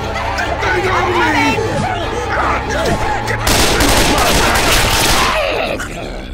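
Gunfire from the video game Left 4 Dead 2 in a shopping mall level, with loud, dense bursts of shots that thicken midway, mixed with excited voices talking over the game.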